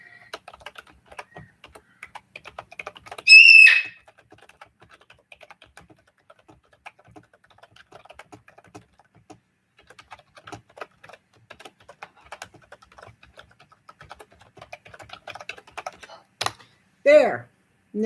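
Someone types a short note on a computer keyboard, with rapid, light, close key clicks coming in irregular bursts and a few brief louder sounds among them.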